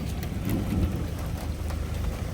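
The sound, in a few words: rain falling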